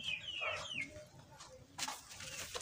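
A chicken clucks and squawks close by in a short burst of rising and falling calls, then a louder scratchy rustle follows.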